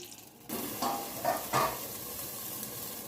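A pot of water for tarka rice comes up to a boil on the stove, with a soft bubbling hiss and a few brief louder bursts of bubbles, close and fairly quiet.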